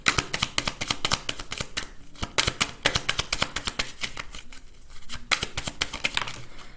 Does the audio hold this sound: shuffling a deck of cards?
yes